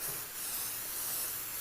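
Spray adhesive jets from an aerosol can across quilt batting in one continuous, close hiss that holds steady throughout without pauses or voices.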